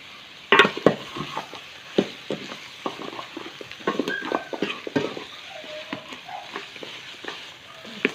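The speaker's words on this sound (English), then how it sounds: "And keep stirring." Caramelized chicken with table salt being stirred in a pan, a steady sizzle under repeated scraping and clacking strokes of the utensil, close and moderately loud with no talking.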